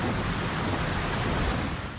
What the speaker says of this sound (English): Well, the heavy rain has already started.